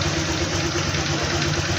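A Honda Click 125 scooter idles just after starting, its steady mid-pitched engine hum running close and fairly loud with a faint knocking vibration throughout, no voices over it.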